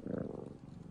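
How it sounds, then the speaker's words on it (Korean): A cat purrs close by, a low rhythmic rumbling vibration that swells at first and then softens over a short moment. "기분이 좋을 때나 다른 고양이나 주인이 가까이 오기를 원할 때 가르렁거리는 소리를 내죠."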